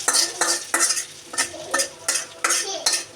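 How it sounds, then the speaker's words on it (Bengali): Kochur loti (taro stolons) with black cumin being stirred in a pan: close, rhythmic spatula strokes scrape the metal roughly twice a second over a light frying sizzle. "কালো জিরে দিয়ে দিলাম, দিয়ে একটু নেড়ে নেব"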